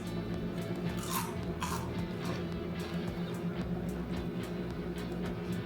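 A few crisp, crunchy bites into a brittle gluten-free cornflake coconut macaroon, heard close up over a steady low background hum.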